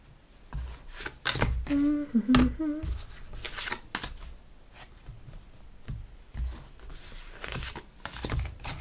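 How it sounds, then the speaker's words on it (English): Tarot cards being shuffled in bursts of riffling and snapping, close by, with a brief hum-like vocal sound partway through. "These cards are not wanting to shuffle today, are they? Okay, let's do some shuffling"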